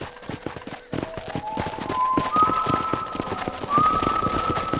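Horses trot with a steady clip-clop of hooves in the Red Dead Redemption video game, the rhythmic footfalls continuing under a sustained tonal game sound.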